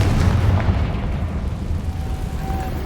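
A Confringo fire spell in Hogwarts Legacy bursts in a loud, deep booming rumble that fills the whole moment and decays slowly with dense low roar.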